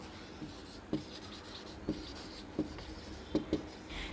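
Chalk or marker tapping and scraping across a classroom board while a sentence is written, about half a dozen short, sharp strokes spaced irregularly over a quiet room hum, with no talking.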